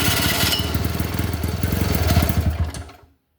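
A Velocette Viceroy scooter-style motorcycle engine tries to fire with its choke off, a rapid rhythmic chugging churn of cranking pulses lasting almost three seconds before stopping abruptly into silence.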